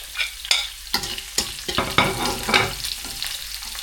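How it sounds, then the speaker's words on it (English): Garlic frying in hot oil in a pan for Singapore-style noodles, a bright close sizzle broken by repeated scraping stirs, about seven sharp strokes over a few seconds, no talking. "So let's set aside and put the garlic"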